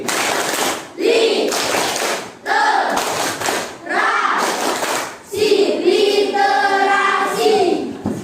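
A class of pupils performs the 'tepuk literasi' clapping chant during a teaching session, with rhythmic bursts of group hand claps interleaved with children's chanting voices, loud and close.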